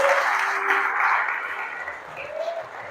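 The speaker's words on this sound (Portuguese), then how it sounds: "Você pode aplaudir o nome do Senhor." Church congregation clapping during a worship service, a steady dense patter of many hands filling the room at moderate level, with no voices over it.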